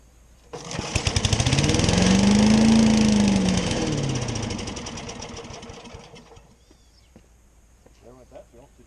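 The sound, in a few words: 1971 Billy Goat vacuum engine running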